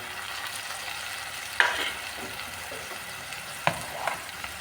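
A dissolved spice mix fries in hot oil in a pan while cooking a taro (arbi) curry, giving a steady close sizzle with a few sharp stirring clinks and bursts.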